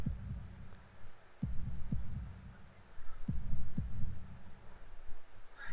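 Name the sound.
heartbeat sound in Katawa Shoujo video game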